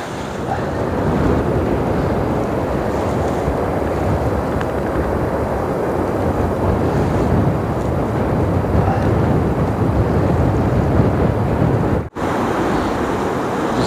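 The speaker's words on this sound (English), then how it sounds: "The wind is blowing." Wind blows strongly across an estuary mouth at low tide, a continuous loud rushing roar buffeting the microphone, with no voices and one brief dropout near the end.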